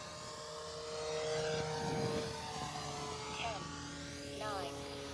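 An E-flite Turbo Timber Evo, a 1.5 m radio-controlled plane, passes at full throttle, its steady propeller whine swelling and falling as it goes by, with someone talking over it.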